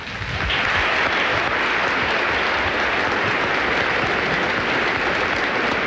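Steady, dense applause from a large tennis tournament crowd, loud and sustained throughout with no pauses.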